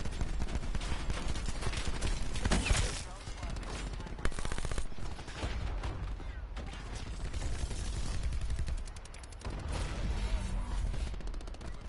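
Continuous gunfire from a PS4 shooter game, steady dense shots and bursts running throughout at moderate level, mixed with other game sounds and occasional talk.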